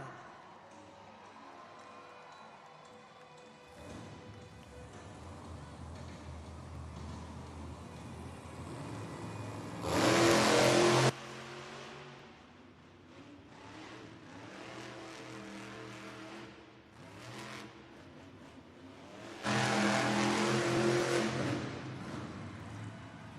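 Megalodon monster truck engine roars steadily on a Monster Jam arena track in Pensacola, a loud sustained drone that swells into two sharp revving surges, with crowd noise underneath.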